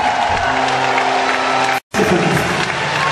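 Audience applause fills a large multi-purpose arena at a concert in Gondomar, a loud, dense, steady clapping with a brief cut near the middle, and a voice shouting over it.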